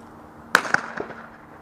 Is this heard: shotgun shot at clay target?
yes